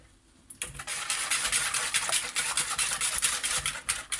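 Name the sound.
stirring apple cake batter after adding eggs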